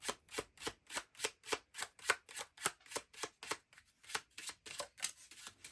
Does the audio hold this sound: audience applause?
no